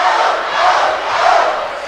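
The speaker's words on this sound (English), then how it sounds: "we have a little battle going on between the cheering section of Rutland and the cheering section of MSJ" Rival student cheering sections from Rutland and MSJ chant and yell back and forth at a boys varsity high school basketball game, a dense, steady roar of crowd voices that swells and dips throughout.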